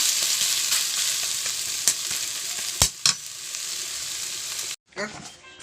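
Taro leaves (kochu shak) cook down in a pan with a soft, moderate sizzle and a few sharp stirring knocks, then the sound briefly cuts out and returns quieter.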